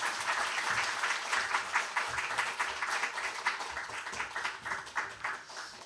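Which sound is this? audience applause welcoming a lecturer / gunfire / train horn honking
audience applause welcoming a lecturer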